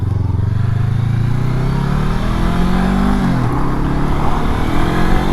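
A 2023 Honda CB500X adventure road bike rides with a steady, loud engine drone whose pitch climbs gradually as it accelerates, continuous and close throughout with no talking.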